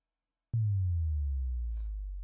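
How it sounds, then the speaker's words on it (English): A sub drop effect in an electronic beat production hits suddenly as a deep, clean sine-like bass tone that slides downward in pitch and sustains loudly to the end, alone. "Sub drop."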